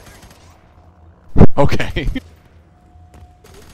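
Gunfire in the shooter game F.E.A.R. 3: a short, loud cluster of several sharp shots in quick succession, framed by quiet game ambience and a brief spoken word.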